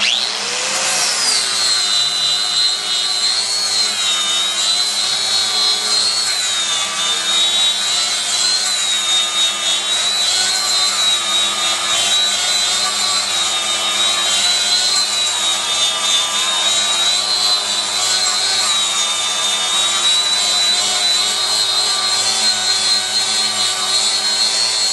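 A power tool grinds down fresh welds on the front end of a 1965 VW Safari, holding a loud, steady high-pitched whine with slight wavering pitch for the whole stretch, close up and with no voices.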